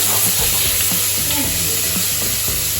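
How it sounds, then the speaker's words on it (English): Onions sizzling loudly in a hot pan as bolognese sauce gets started, a dense, continuous frying hiss close by with faint stirring scrapes underneath. "Now chuck your onions in your pan."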